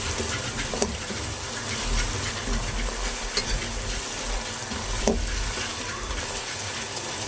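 Aloo gobi chicken with garam masala sautéing in a pan, a dense continuous sizzle of hot oil with occasional stirring scrapes and knocks, close and steady throughout.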